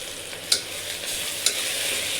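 Black pea pulav being sautéed with biryani masala, red chilli and coriander: a close, bright frying hiss with two quick spatula scrapes, no voices.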